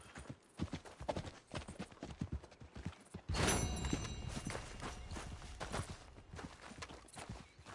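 Horse hooves clip-clop at a walking pace in Red Dead Redemption 2, steady close thuds at first, then a louder burst of movement and rustle with hoofbeats continuing underneath.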